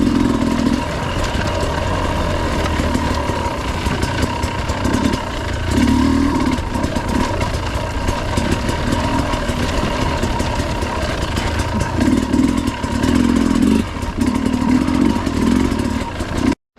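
A 2022 Sherco SE 300 Factory motorcycle engine idles with a lean tune, giving a steady close-up putter with uneven mechanical clatter and small swells in level throughout.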